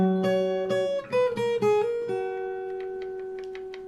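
Fingerstyle acoustic guitar picks a melodic phrase from a song, a string of plucked notes that ring out and fade, played alone and close.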